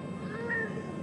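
A cat meows once, a short rising-and-falling call heard close up against a faint room background.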